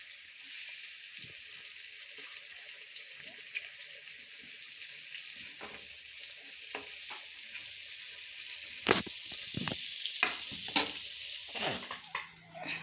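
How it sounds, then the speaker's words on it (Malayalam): Fish fries in oil with kanthari chillies and shallots, sizzling and hissing steadily in a pan, with occasional clinks and scrapes of a utensil, growing louder toward the end. "ഇത്തിരി കാന്തരി മുളകും ചുമന്നുള്ളി എരിഞ്ഞിട്ടുണ്ട് കേട്ടോ എണ്ണയിലേക്ക്"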